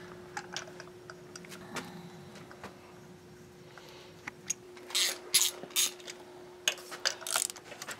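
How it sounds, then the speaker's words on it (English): A socket ratchet tightens spark plugs on a 2008 Ford Taurus during a tune-up, with quiet scattered clicks early on and then louder bursts of rapid ratcheting toward the end, close up against a steady low hum. "So I'm just going to use my socket here and put the plugs"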